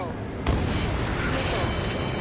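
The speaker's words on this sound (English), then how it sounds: "Missile hit." A loud missile explosion in the video game Ace Combat 7, a sudden heavy boom followed by a sustained rumbling roar, with voices speaking over it.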